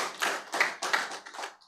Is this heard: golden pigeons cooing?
no